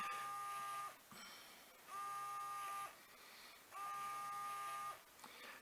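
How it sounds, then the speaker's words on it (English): A noisy electric motor drives the crank of a blue and yellow moving safety target, whirring in three loud, steady bursts with a tonal whine, separated by quieter pauses as it stops and reverses. "I'll swap that motor out, this noisy one. Sometimes you get a noisy one."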